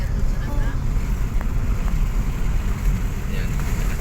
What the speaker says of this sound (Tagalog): Lakas ng hangin mga kasangkay.